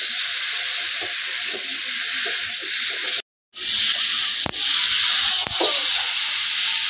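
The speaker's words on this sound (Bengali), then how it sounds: "আমি একটু ভালো করে কষাই নিতেছি।" Eggplant sizzles and fries in a hot pan while being stirred and sautéed, giving a loud, steady hiss. There is a brief gap partway through and a few scraping clicks from the utensil.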